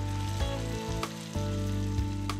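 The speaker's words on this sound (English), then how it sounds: "I'm just browning it before putting it into a pot where it's going to be slow cooked" Flour-dusted beef cubes browning in a little extra virgin olive oil in a frying pan, a steady close sizzle and crackle with a few soft stirring knocks, no voices.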